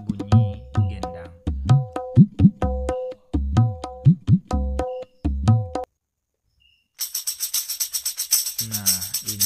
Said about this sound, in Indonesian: Nah, ini adalah bunyi gendang.